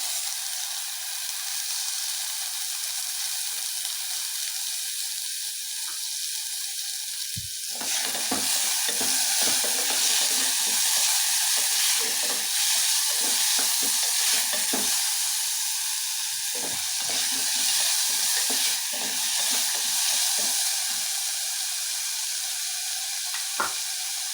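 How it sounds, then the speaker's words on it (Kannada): Finely chopped tomatoes hiss and sizzle as they fry in a pan for a rice dish, with a steady frying bed broken by repeated scraping stirs and spoon clatter after the tomatoes go in, close and alone without talk. "ಚೆನ್ನಾಗಿ ಫ್ರೈ ಆದಮೇಲೆ ಅದಕ್ಕೆ ನಾನು ಸಣ್ಣದಾಗಿ ಕಟ್ ಮಾಡ್ಕೊಂಡಿರೋಂಥ ಟೊಮೊಟೊ ಹಾಕ್ತಾಯಿದ್ದೀನಿ"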